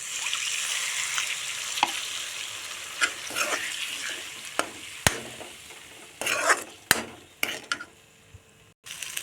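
A spiced egg and potato curry stirred in a pan, with a steady close sizzle and frying hiss broken by irregular scrapes and clacks of the spoon against the pan.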